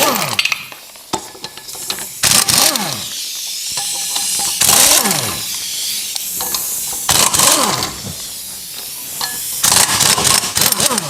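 An air impact gun takes the wheels off a 1959 Renault in a workshop, firing in four loud, whirring bursts spaced a couple of seconds apart, with a steady background hum between them.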